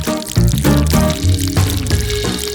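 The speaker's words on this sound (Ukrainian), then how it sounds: "поливаємо торт медом" Honey is poured over a cake in a kitchen. A loud, continuous liquid pour with a gurgling stream runs for a couple of seconds, and no voices are heard.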